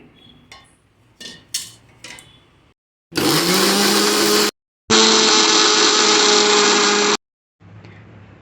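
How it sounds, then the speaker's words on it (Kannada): A kitchen mixer grinder blends fried masala for paneer gravy, whirring loudly in two bursts of a few seconds each with a short pause between, after some clinks of the jar and lid being handled. "ಇದೊಂದು ಮಿಕ್ಸರ್ ಜಾರ್ ತೊಗೊಂಡ್ಬಿಟ್ಟು ಮಿಕ್ಸರ್ ಹಾಕ್ಕೊಂಬರ್ಬೇಕು ರೀ"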